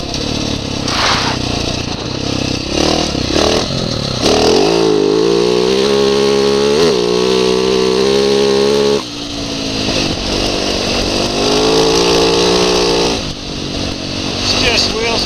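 A dirt motorcycle at speed in a desert race, the engine loud and close as it revs up and holds high while the rear wheel breaks traction and spins, then drops off and climbs again.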